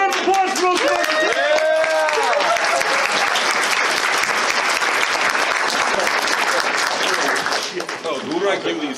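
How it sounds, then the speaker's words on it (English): Audience applause at a furry convention improv comedy show, loud and sustained clapping from a packed crowd with cheers and voices mixed in, fading slightly near the end. "Give a huge round of applause for those guys."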